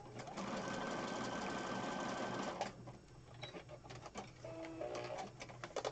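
A sewing machine stitches fabric in a rapid, steady mechanical whir for a couple of seconds, then quieter intermittent clicks and rattles as the work shifts, all fairly faint and close.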